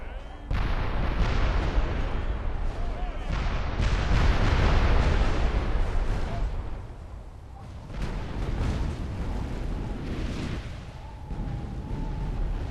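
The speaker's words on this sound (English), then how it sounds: "Fire the guns. Ready? Fire!" Artillery guns pound a castle wall during a siege in the video game Medieval II: Call of Warhammer, a dense run of loud, overlapping booms and rumbling blasts with a brief lull before more shots.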